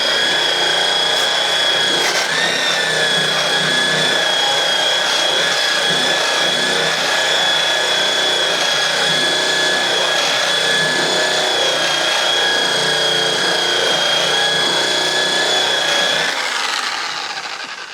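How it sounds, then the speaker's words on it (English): A Restorer power tool grinds rust and mill scale off a steel bumper for a 1980 Dodge W150, a loud, steady whining abrasion with a constant high motor tone that runs for about sixteen seconds before winding down. "Now I'll show you what the Restorer can do."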